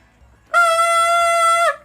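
A high note on a toleat wind instrument rings out as one steady, bright tone of about a second, starting abruptly and then cutting off cleanly, with nothing else around it.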